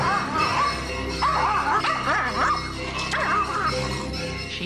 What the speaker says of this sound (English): barking and barking and barking